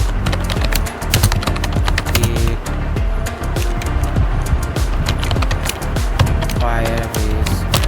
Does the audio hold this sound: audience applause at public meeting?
no